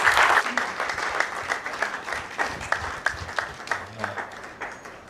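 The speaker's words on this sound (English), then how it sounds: "Please let's stand and give him a round of applause as he comes on stage" Audience at a Leventis Foundation Nigeria alumni formalization ceremony standing to applaud as a speaker comes on stage: steady, close clapping that gradually thins and fades over a few seconds.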